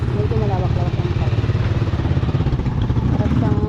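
A motorcycle engine idles with a steady low pulsing rumble close by, and voices talk over it across the whole stretch.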